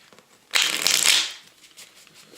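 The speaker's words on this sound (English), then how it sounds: "I'm going to pull some cards just to see what the energy is like" A deck of tarot cards is shuffled up close in one quick riffling burst lasting under a second, with quiet handling before and after and no talk.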